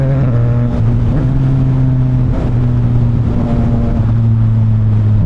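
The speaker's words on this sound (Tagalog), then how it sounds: "3-cylinder engine" A CF Moto 675NK three-cylinder motorcycle engine pulls hard through the revs in third gear, a loud, close, smooth droning note rising and dipping with brief shifts between pulls.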